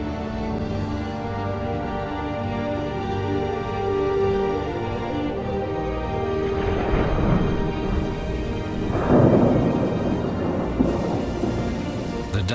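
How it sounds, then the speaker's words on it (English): Thunder rumbles through a heavy downpour over the Mongolian steppe grasslands, with steady rain throughout and louder rolling thunderclaps building in the second half, close and full. "The downpours can be massive."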